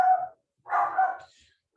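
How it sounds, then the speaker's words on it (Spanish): A dog across the street barks in two short bursts, somewhat distant, with a brief pause between them. "el perro del frente de mi casa está haciendo bulla"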